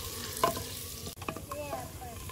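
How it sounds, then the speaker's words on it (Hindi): Steady sizzling of ginger, garlic and onions frying in a pan, with a few stirring scrapes and clinks of a utensil, no talking. "जब तक प्याज में हल्का लाइट ब्राउन होना है तब तक अदरक लहसुन भी फ्राई हो जाए।"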